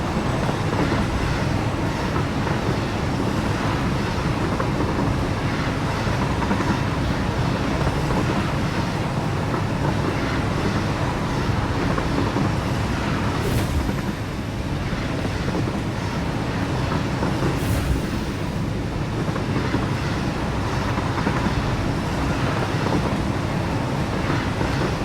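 A train running in the factory-building video game Satisfactory, a continuous rumbling rail roll with a windy hiss, steady and loud throughout with two faint high squeals.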